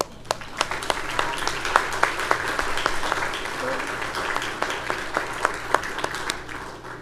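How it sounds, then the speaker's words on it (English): Applause for the players' parents at a school board meeting, a steady wash of many hands with sharp individual claps standing out, moderately loud and continuous throughout. "let us give you a round of applause"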